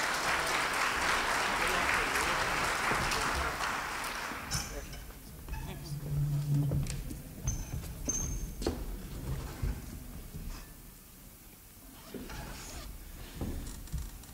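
Audience applause at a 2020 primary political forum in Angelina County, a dense round of clapping for the first few seconds that fades into scattered claps, shuffling and room noise.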